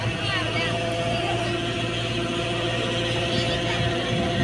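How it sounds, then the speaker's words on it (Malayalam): A tractor engine drones steadily while it hauls a boat up out of the water at sunset, a continuous nearby rumble with people talking over it. "ട്രാക്ടർ വലിച്ചതാ ബോട്ട് കയറ്റാൻ."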